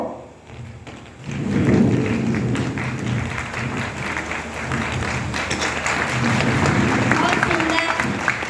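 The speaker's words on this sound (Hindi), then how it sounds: "अभी तालियों में मुझे कुछ कमी लग रही है" An audience at a stage performance about Shivaji breaks into applause, a broad steady wash of clapping that swells after a quiet opening and carries on to the end, with a voice speaking over it.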